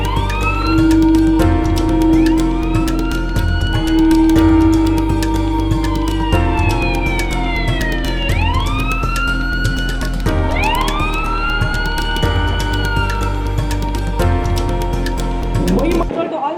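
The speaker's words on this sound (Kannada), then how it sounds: "It's an emergency alert." A loud air-raid emergency siren wails continuously during a mock drill in Shivamogga, its tones sweeping up and down in repeated rising and falling cycles for the whole stretch.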